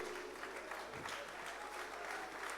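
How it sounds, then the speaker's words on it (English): Audience at a corporate brand launch event keeps up a steady, fairly distant round of applause, continuous dense clapping with no pauses. "keep the applause going"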